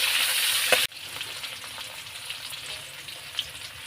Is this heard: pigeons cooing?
no